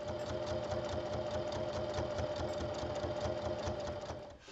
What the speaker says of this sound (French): On fait ensuite une surpiqûre sur toute la longueur.